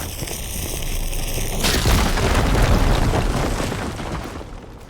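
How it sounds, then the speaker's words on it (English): A fire beam blown up in Horizon Forbidden West: a sustained, loud rumbling blast with crackling debris that swells and rolls on for several seconds after a brief tonal hum cuts off. "Should be able to blow up that fire beam."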